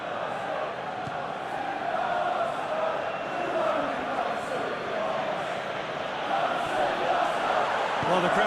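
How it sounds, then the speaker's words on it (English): Large football stadium crowd at an Arsenal–Tottenham derby roars in approval after a defensive interception, a dense, steady wall of cheering and chatter held at full volume throughout. "Well, the crowd clearly like what they just saw."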